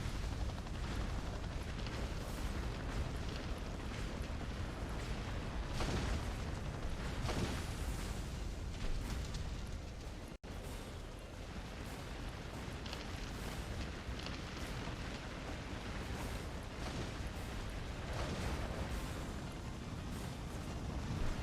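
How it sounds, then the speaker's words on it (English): Continuous game explosions and booming blasts rumble without a break in a speedrun practice session, a dense, loud, roaring wall of sound with sharp bursts scattered throughout and one abrupt cut partway through. "Now we run away from explosions."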